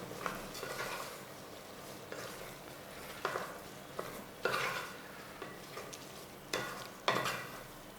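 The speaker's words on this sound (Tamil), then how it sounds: "இதையும் கொஞ்சம் மிக்ஸ் பண்ணி விட்டுக்குங்க." Rice is stirred into a simmering bisi bele bath mixture in a pot, giving soft sizzling under repeated scraping and clinking strokes of a spoon against the pot at an uneven rhythm.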